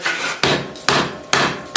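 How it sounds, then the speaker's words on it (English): Four sharp, ringing hammer blows on metal on an anvil while forging bolt jaw tongs, evenly spaced about every half second, each strike loud and close with a bright decaying ring. "by hammering straight down, then on the 45s, and then on the sides."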